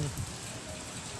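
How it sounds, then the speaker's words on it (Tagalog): Heavy typhoon rain and strong wind from Typhoon Rolly in Las Piñas City: a dense, steady patter and hiss of rain on surfaces, close and continuous, with a faint voice underneath. "malakas na yung hangin at saka ulan dito sa Las Piñas City"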